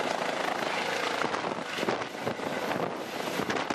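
A SMURD rescue helicopter transporting an injured teenager to Chișinău gives a loud, continuous rotor and engine roar, heavily buffeted by wind noise.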